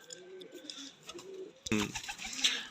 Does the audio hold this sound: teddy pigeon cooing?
yes